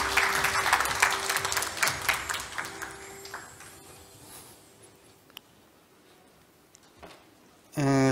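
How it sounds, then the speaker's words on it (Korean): Audience applause at a supercomputing conference keynote in Korea, welcoming the head of the national weather supercomputer center; dense clapping is strong at first, then thins and fades into quiet room noise, with a brief loud burst at the very end. "큰 박수로 맞아주시면 감사하겠습니다."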